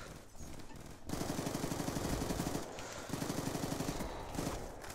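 Rapid bursts of automatic gunfire in Black Ops 2, loud and rattling in two long strings separated by a short gap.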